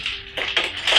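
A cup of ice cubes tumbles into a blender jar for a mango milkshake, giving a short close-up run of crunchy clattering bursts lasting about a second.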